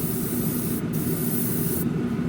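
Water-based paint sprayed from an airbrush onto the masked window of a model car, a loud, close, steady hiss with two short breaks.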